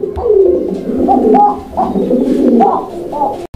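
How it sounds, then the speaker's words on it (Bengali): A male pigeon gives a series of deep, rolling coos, loud and close, repeating in a steady rhythm of swelling calls with no other sound competing. "দর্শক দেখেন নরের ডাক দেখেন, একদম উড়া দুরা ডাকের কবুতর"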